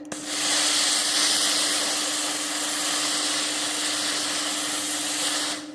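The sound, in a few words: steam iron pulsing steam over fabric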